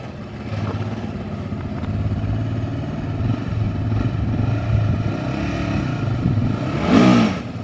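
A car with an RB25DET engine and faulty wiring drones steadily at low revs while driving, then rises into a short, louder rev near the end, with no voices over it.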